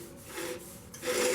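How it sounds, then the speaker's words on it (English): Soft rubbing of finish onto a woodturned mahogany candy dish, a quiet, uneven back-and-forth scuffing with brief pauses, close and faint. "Just gonna kind of rub it around a little bit"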